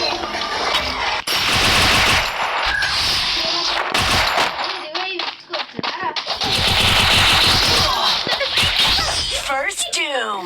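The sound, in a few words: gunfire in a shooting video game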